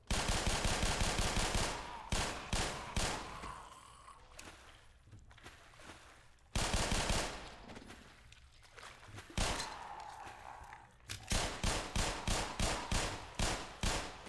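The player's gun in Black Mesa fires rapid automatic bursts, loud and close, several strings of sharp shots separated by short pauses and reverberant tails.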